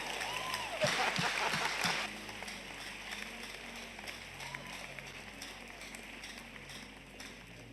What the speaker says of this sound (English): Clap well, whether you have been doing it or not.